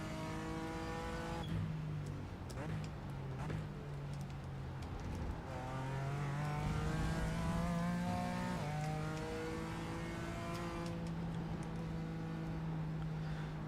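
BMW M4 GT4 race car in iRacing at Road America, its engine droning loud and steady throughout, pitch climbing through the gears with brief drops at shifts and a rising rev toward the end.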